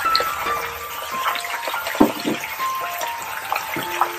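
Potato slices dropped into hot oil for chips, a close bubbling fry with scattered clinks and splashy pops, fairly loud and alone without any voices.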